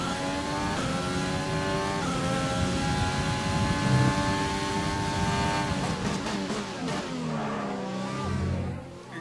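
An F1 race car engine in the racing game F1 2020, a sustained high-pitched whine holding steady, then shifting through gear changes and dropping as the car slows, loud and continuous with no talk.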